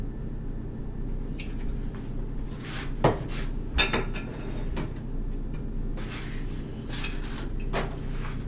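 Contents of a bowl being scraped and tipped into a side dish: scattered clinks and scrapes of utensils against dishes over a steady background hum, with no talk.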